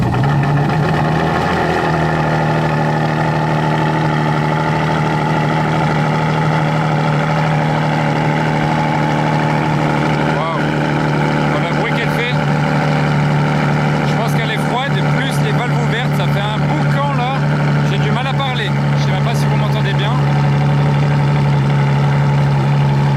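A Ferrari Enzo idles at the Paul Ricard circuit, a steady low engine drone holding throughout with faint mechanical ticks, while people talk over it nearby.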